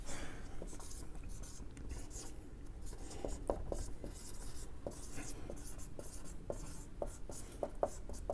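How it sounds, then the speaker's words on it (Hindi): Chalk or marker scratching across a classroom board while a physics definition is written, in short repeated strokes and taps, fairly close and soft against faint room noise. "चलो मैं अब डेफिनेशन लिखता हूं"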